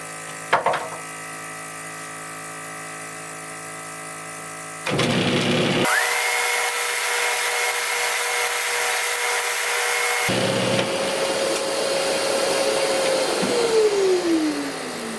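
A Flatmaster sander fitted with a vacuum-assisted backing board runs as a loud, steady machine whine, with its pitch and intensity shifting a couple of times as the vacuum and sanding change. No one speaks.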